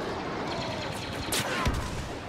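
Gunfire bursts and a grenade blast in Star Wars Battlefront gameplay, a rapid fusillade of shots over a continuous battle din with a sharp explosive hit near the end.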